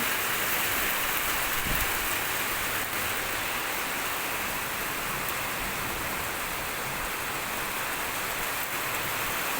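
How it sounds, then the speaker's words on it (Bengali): Steady, dense rainfall pours continuously, a broad even hiss with no voices over it. "দেখো কি সুন্দর বৃষ্টি হচ্ছে"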